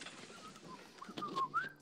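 A person whistles in imitation of a Mexican whistle, rising, warbling tones that brighten and grow louder toward the end, heard close and without talk.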